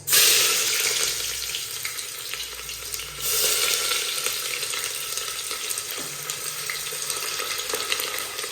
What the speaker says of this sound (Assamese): তেল গৰম হৈ গ'ল গাইজ। আমি ইয়াত দিম পিঁয়াজ